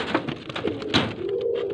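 A Teddy pigeon coos amid a breeder's flock of fancy pigeons in Faisalabad, repeated soft low coos over steady background noise, fairly close, with no talk.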